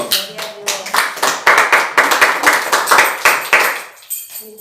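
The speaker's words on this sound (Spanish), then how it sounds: "Dale un fuerte aplauso al Señor." Church congregation clapping in unison, sharp distinct claps in a quick steady rhythm, loud and close, fading out near the end as a voice begins.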